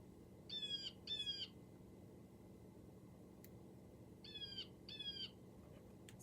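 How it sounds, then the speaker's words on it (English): Blue jay call played from a recording, two pairs of harsh repeated jay notes spaced a few seconds apart, faint and distant over a low steady hiss. "So here is our blue jay call."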